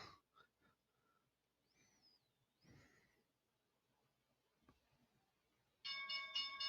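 A loud bell rings to close the stock market trading session. It bursts in sharply at the end after a few seconds of near silence and faint scattered noises.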